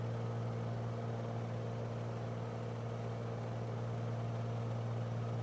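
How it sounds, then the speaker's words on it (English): Steady drone of a Black Square Bonanza piston aircraft engine in Microsoft Flight Simulator 2020, running at full-rich mixture with a low hum and a constant tone, heard alone and unchanging throughout. "You can hear a change in the difference of the engine fuel flow and the engine tone."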